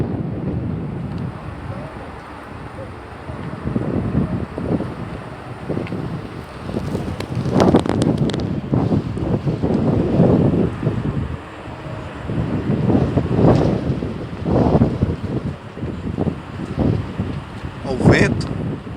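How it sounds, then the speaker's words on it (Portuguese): Gusty wind blows before rain, buffeting the microphone in strong, uneven bursts over a constant outdoor rush. "O vento."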